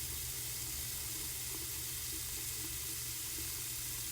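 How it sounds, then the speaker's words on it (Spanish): Water runs steadily from a kitchen sink tap in a food-handling setting, a constant low hiss with no clear shut-off heard. "Para finalizar, cierre la llave del agua utilizando la toalla de papel."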